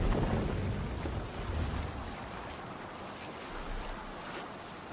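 A boat sailing over the sea in Assassin's Creed Valhalla brings a steady wash of waves and wind rumble, moderately quiet and continuous, with no voices over it.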